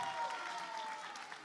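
A crowd claps at a children's carnival festival in Almería, a brief, fairly faint burst of steady applause heard from a distance.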